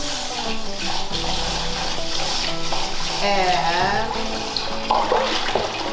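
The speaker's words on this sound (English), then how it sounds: "You can lightly stir the rice." Rice being lightly stirred and rinsed in water in a pot while preparing Japanese rice, a close, continuous sloshing and swishing with a short spoken word over it.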